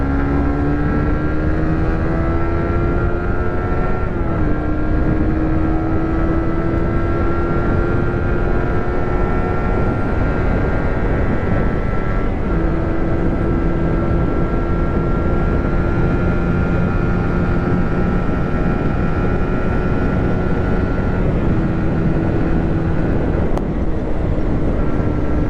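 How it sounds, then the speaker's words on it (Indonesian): Steady, loud engine drone of a Suzuki GSX MotoGP Edition motorcycle on a test ride, its pitch holding and then dipping at a few gear changes over about 25 seconds, with constant road and wind rush throughout. "mesin standarnya enak banget coy. GSX asli, GSX enak banget standaran mesinnya"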